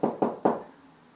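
Three firm knocks on a door, close and fairly loud, evenly spaced in quick succession with a hollow resonance, followed by quiet.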